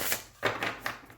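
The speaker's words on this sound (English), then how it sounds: "let's just give it a shuffle and see how it goes." A trimmed Ember + Aura tarot deck, new and still slightly stiff, is shuffled by hand in a few quick papery riffling bursts, close and fairly quiet.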